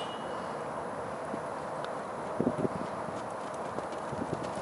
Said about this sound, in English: Right into a canter.